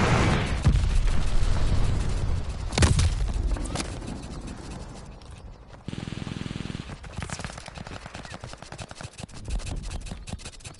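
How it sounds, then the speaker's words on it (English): Glide bomb explosion and gunfire in the Call of Duty Vanguard video game, with loud booming blasts near the start and around 3 s, then a long rumble and continuing rapid shots, no talk. "Enemy glide bomb coming in hot!"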